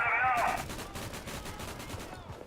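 Rapid automatic gunfire from an aircraft strafing run in the video game Day of Infamy, a fast rattling burst of shots, loud and close, followed by a fading echo.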